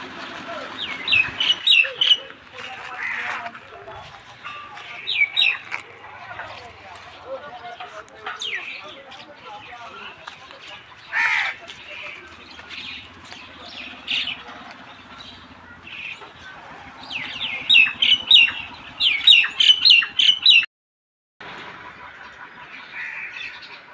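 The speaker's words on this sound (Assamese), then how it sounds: "খুব সুন্দৰ লাগে চৰাই চিৰিকটি মাতকেইটা" Bursts of bright sparrow chirps come and go over a busy background in front of a shop, with people talking at times and small fowl clucking now and then.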